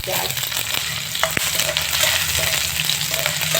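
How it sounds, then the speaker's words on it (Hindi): Chopped onion and potatoes frying in a pan for aloo methi, a loud, close, continuous sizzle with occasional soft clicks of stirring. "हल्का सा बस फ्राई करके मैं आलू डाल दिया है, ताकि प्याज के साथ आलू भी फ्राई हो जाए"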